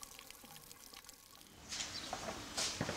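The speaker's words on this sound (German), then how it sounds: "Das ist Stadtbrunnen" A town fountain in Mošćenice runs with a continuous trickle and splash of water, growing louder and more sloshing partway through, heard close up without talk.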